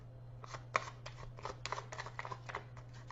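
Tarot cards being shuffled by hand, a series of quick crisp riffles and soft card slaps in an irregular rhythm over a steady low electrical hum, close-up and fairly quiet with no voices.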